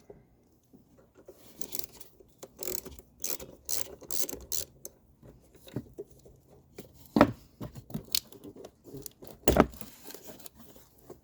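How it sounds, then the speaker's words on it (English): 10mm battery terminal nuts come loose on a Land Rover Discovery Sport, heard as close, irregular clicks, ratcheting and metallic scrapes in short bursts, with a couple of sharper knocks. "Two 10mm nuts are holding the terminals down. Undo those."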